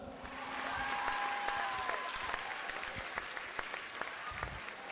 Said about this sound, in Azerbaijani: Xanımlar və cənablar, alqışlar!